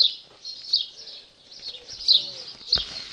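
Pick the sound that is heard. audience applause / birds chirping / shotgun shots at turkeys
birds chirping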